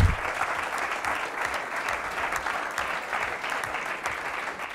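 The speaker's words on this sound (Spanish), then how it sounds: "Bienvenida, un aplauso." An audience applauds steadily to welcome a guest onto a Spanish sports talk show about women in sport, with dense, even clapping throughout and no talk heard.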